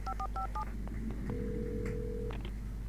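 Telephone keypad tones in the video game Alan Wake: four quick dual-tone dialing beeps, then a few soft clicks and one long steady tone, loud over low background hum.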